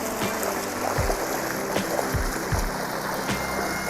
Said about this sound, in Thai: คลอง ยางนะคะมีน้ำตลอดทั้งปีเลยนะคะ มีน้ำไหลแบบนี้นะคะ